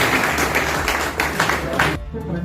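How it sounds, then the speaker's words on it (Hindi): Audience applause welcoming Delhi government minister Rajendra Pal Gautam at a public gathering, a loud, dense burst of clapping from a crowd that cuts off abruptly, leaving a low hum. "जोरदार तालियों से उनका अभिनंदन करेंगे"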